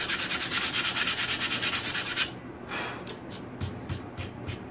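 Old paint being scraped or sanded off a wooden painting easel, a fast rhythmic rubbing of about a dozen even strokes, close and loud, then slower scattered rubs.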